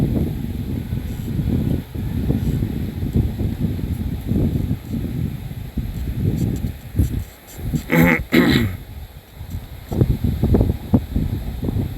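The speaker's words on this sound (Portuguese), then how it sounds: "Eita, mas o vento tá forte." Strong wind buffets the microphone outdoors during a mini drone flight, a continuous low rumbling gusty roar with uneven surges and a brief lull near the middle.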